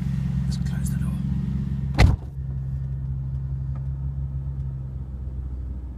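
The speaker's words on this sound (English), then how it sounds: "Let's start the car up for you." A Jaguar XKR engine idles with a steady, deep low hum from a parked car; a brief loud thump near the start, likely a door closing, cuts across the continuous engine drone before it settles again.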